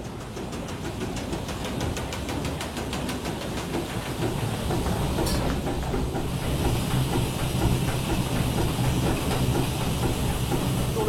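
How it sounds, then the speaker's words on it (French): Grain cleaning and separating machinery runs in a flour mill, driven through bearings and belts by a small electric motor, a steady loud hiss and mechanical rumble. "Sur le petit moteur électrique d'en bas qui fait tourner tout ça."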